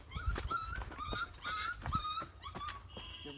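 A puppy whimpers in a string of short, high, thin whines and yips, repeated every half second or so, fairly faint and with no talking over it.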